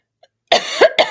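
A person coughs alone at close range: two sharp, loud coughs about half a second apart, following a faint tick.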